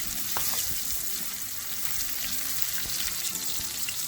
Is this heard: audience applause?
no